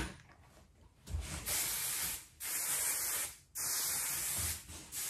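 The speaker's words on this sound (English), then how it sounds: "I'm gonna spray some of this texturizing spray" Three long bursts of Kevin.Murphy texturizing hair spray hiss from an aerosol can, close and loud, separated by short pauses, with no talking.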